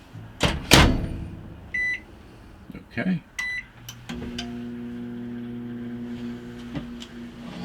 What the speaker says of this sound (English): what if you wanted to microwave some popcorn?